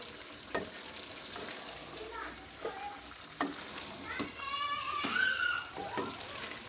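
Mixed vegetables with kasuri methi stir-fry in a pan for a curry, with a soft, steady sizzle and scraping stirs in irregular strokes, quiet and close.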